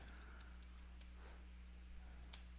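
Typing code on a computer keyboard, faint scattered key taps under a steady electrical hum, a handful of soft clicks spread over a couple of seconds.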